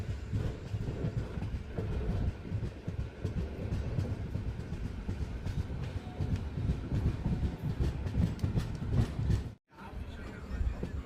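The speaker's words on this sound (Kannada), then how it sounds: "ನಮ್ಮ ಟ್ರೈನ್ ಈಗ ಉಗಾರ ಕುರ್ದ ರೈಲ್ವೆ ಸ್ಟೇಷನ್ಗೆ ಎಂಟ್ರಿ ಆಗ್ತಿದೆ" The Haripriya Express rolls into Ugar Khurd station, a steady close rumble of wheels on rails with light clickety-clack, briefly cutting out near the end; no one speaks.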